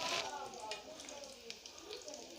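Arvi (taro root) frying on low heat in a pan, a steady soft sizzle with faint crackles running throughout, moderately quiet, with a voice talking over it.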